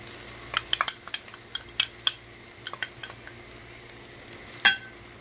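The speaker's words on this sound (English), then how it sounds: "I see, stir this up." Pepper shrimp and vegetables stir-fry in a pan: a spatula clicks and scrapes against the metal in quick, irregular taps over a soft, steady sizzle, with one sharper clatter near the end.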